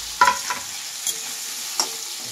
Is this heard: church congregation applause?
no